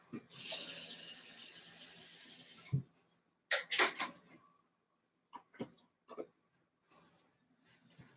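Water from a kitchen tap splashes for about two and a half seconds to fill a kettle for a pot of tea, followed by sporadic clinks and handling knocks in a quiet room.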